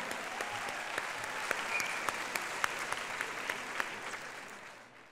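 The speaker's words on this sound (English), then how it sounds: "Yes, I want to ask another round of applause for that." An audience at a Yoga Day celebration at the United Nations gives a round of applause, steady moderate clapping with a few sharper claps standing out, fairly distant, tapering off at the end.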